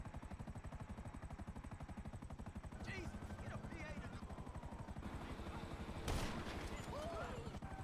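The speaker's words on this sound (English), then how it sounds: "It's me in a chopper again." Helicopter in the video game GTA Online, a steady rapid rotor chop pulsing throughout with a brief louder burst near the end, over a continuous engine drone.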